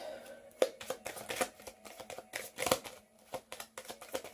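Tarot cards being shuffled by hand, giving soft repeated riffling and slapping bursts at close range in a quiet room, with no voice.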